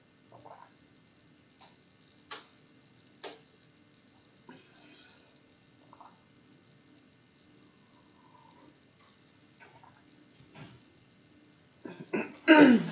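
A few short throat-clearing grunts and faint ticks spread across quiet background, ending with a louder, rougher burst of throat noise.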